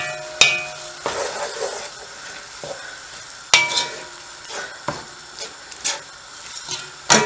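Paprika spice mix stirred and frying in a pan for a home-cooked lamb curry, with scraping stirs and sharp clinks of a utensil against the pan over a soft sizzle, several distinct knocks spaced through.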